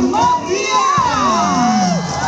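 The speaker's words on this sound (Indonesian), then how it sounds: "Berikan tepuk tangan yang paling meriah untuk tuan rumah kita, Kabupaten Benar" An audience at the opening ceremony of the 2022 Aceh MTQ Quran recital competition in Bener Meriah cheers loudly, with rising and falling shouts and whoops over a dense crowd roar.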